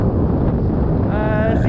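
Strong wind of about 6-7 knots buffeting the microphone in a constant roar while riding a Moses Onda 633 aluminium hydrofoil, with water rushing beneath and a faint whine rising near the end.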